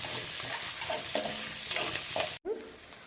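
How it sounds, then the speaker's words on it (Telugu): Onions and green chillies fry for sambar in a pan, a close hissing sizzle with stirring scrapes and a few louder bursts, cutting out briefly near the end before resuming. "అందులో ఆనియన్స్, పచ్చిమిర్చి నేను ముందు వేస్తున్నాను."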